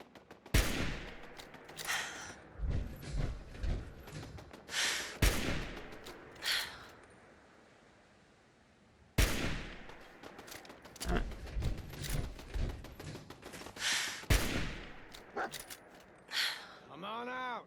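Several loud, sharp turret shots from Fallout 4 in survival mode, heard as two clusters of rapid bangs separated by a quiet stretch, with a voice speaking between the bursts.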